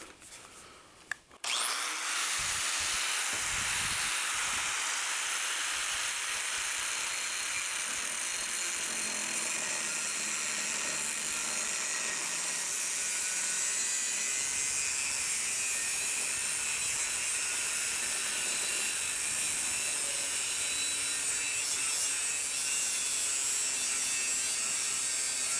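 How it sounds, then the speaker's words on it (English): A cutoff wheel slices through metal tubing during a custom buggy roll cage build, starting abruptly with a loud, harsh, sustained high-pitched screech that grinds on steadily for over twenty seconds, close up. "I've been using these new cutoff wheels I got from Amazon."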